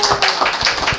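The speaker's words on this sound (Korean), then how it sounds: "자기들이 박수를 쳐달라고 박수를 막 치고 있어가지고" Children in a small church clap together in a quick, uneven burst of hand claps, close and lively, with a few overlapping beats.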